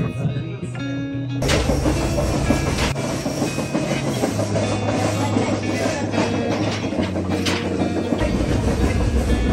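A passenger train runs on rails in Quebec, Canada, giving a steady, continuous rumble with rhythmic clatter and a hissing wash throughout, heard close from on board.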